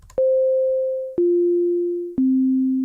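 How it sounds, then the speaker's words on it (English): Three sustained synthesized tones from the octave above middle C, played one after another in Sonic Pi, each about a second long and a step lower in pitch, clean and loud. "That's 3 random notes from that middle C octave"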